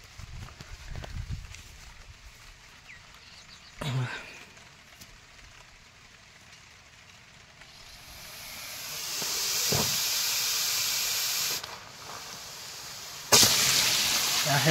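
A 3 HP solar-powered water pump discharging under cloudy skies, its flow building into a steady broadband rush that grows louder midway, with thumps and clatter scattered throughout and no talk.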